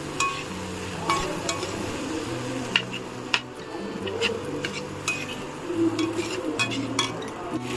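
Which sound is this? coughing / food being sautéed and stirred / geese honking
food being sautéed and stirred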